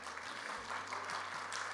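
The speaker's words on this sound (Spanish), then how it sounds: "¿Cuántos le dan un aplauso al Señor?" Congregation applause during a church sermon, soft and even clapping from a crowd with a low steady hum underneath.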